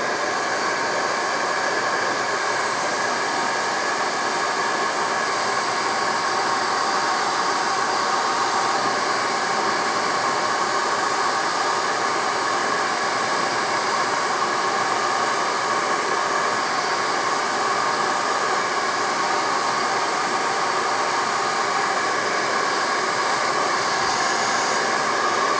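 A hair dryer blows loudly and continuously at close range onto PVC shrink wrap on batteries, a steady rushing whir that holds unchanged throughout.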